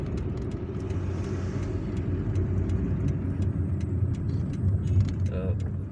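A car drives through the streets of Algiers between El Madania and Ben Aknoun, giving a steady close road and engine rumble with light rattles and clicks on top.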